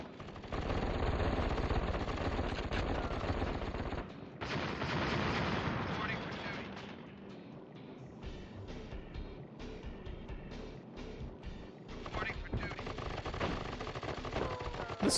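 Defensive turrets in the KKND strategy game fire rapid bursts of gunfire, with dense loud rattling shots giving way to a choppier series of separate bangs.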